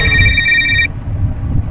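Telephone ringing at night, a loud electronic ringtone trill that rings for under a second and then stops, leaving low background noise.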